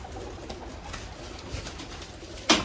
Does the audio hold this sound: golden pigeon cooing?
yes